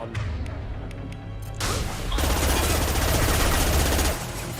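Gunfire from the player's weapon in Mass Effect 2, sparse single shots giving way to a loud, sustained automatic burst at close range lasting a couple of seconds before easing off.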